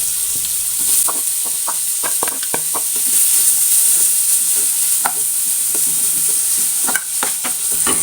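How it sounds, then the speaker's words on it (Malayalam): Sliced onions fry in melted butter in a pan, a steady close sizzle running throughout with scattered taps and scrapes of stirring, no voices. "ബട്ടറൊന്ന് ഉരുക്കി കഴിഞ്ഞാൽ നമ്മൾ ചെറിയ രണ്ട് സവാള എടുത്തിട്ടുണ്ട് അത് സ്ലൈസ് ചെയ്ത് ഇട്ട് കൊടുക്കുന്നുണ്ട്"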